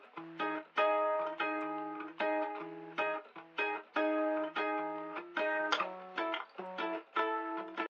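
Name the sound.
intro guitar with telephone-preset EQ in song mix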